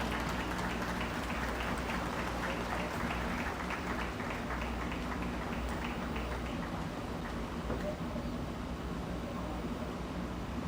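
Sustained applause from an audience at an awards ceremony honoring excellence, a steady dense patter of clapping that fills the room evenly from start to finish without any speech.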